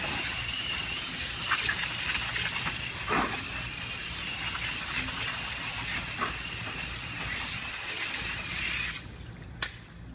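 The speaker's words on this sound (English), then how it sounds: "And then we go ahead and rinse it off." Ferrari California wheels and tires being rinsed with water, a steady broadband spray hiss running for about nine seconds before cutting off, with a brief splash near the end and no one talking.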